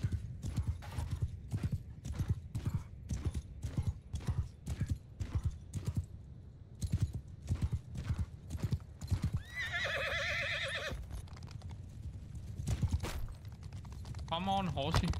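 In Mount & Blade II: Bannerlord, steady clip-clop of many hooves pounding in a fast rhythm, with a couple of horses whinnying loudly partway through and near the end.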